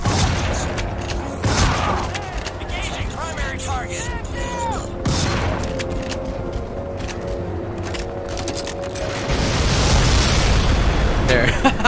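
A rocket explodes in the PC shooter Crysis 2: several deep booms and blasts roll through amid battle noise, with someone talking over the action.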